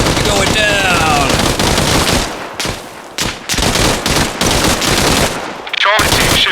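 Rapid automatic gunfire from a squad in the military shooter Arma Reforger, loud and close with sustained bursts and brief pauses, shouted voices mixed in.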